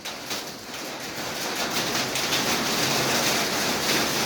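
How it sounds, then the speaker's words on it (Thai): Steady rain hissing down across the whole stretch, a dense broadband wash growing slightly heavier toward the end, with no voices. "ฝนตกแล้ว"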